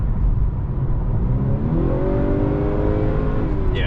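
Interior engine sound of a 2021 Honda Accord 2.0T Sport accelerating hard in sport mode: a constant road roar gives way to a clear rising engine tone that climbs steadily in pitch over several seconds, with no talking.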